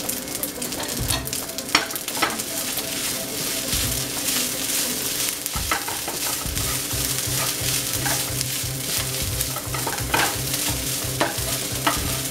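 Rice being stirred and fried in a pan for longsilog, a steady sizzle with repeated scraping strokes of the utensil throughout, close and fairly loud, no talking.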